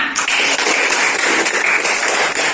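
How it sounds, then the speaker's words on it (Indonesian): A classroom of students applauds a classmate, the clapping dense, loud and continuous throughout, close and filling the room. "beri tepuk tangan untuk temannya"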